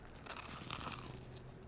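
A crunchy Neapolitan pizza crust gets bitten and torn, giving a close, crackly crunch with crisp tearing texture that runs for a moment and then fades, with no speech.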